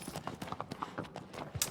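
Horse hooves clip-clop in a quick, steady rhythm, Agro trotting in the Shadow of the Colossus video game, moderately close and unaccompanied by speech.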